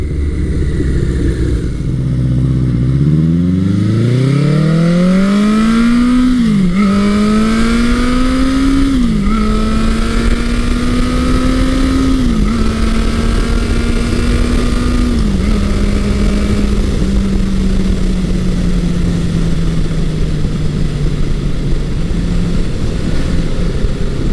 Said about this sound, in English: I am riding Honda's 1982 CB900 Custom,